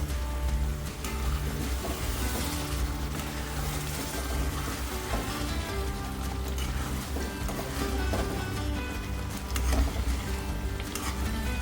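Kadai paneer sabji cooks in a pan with a steady close sizzle and occasional stirring scrapes, continuous and fairly loud throughout with no talking.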